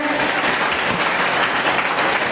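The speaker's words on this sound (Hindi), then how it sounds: "एक बार जोरदार तालियां उनके लिए भी बनती हैं।" An audience at a Delhi government education event breaks into steady, dense applause, many hands clapping together loudly and continuously with no talk over it.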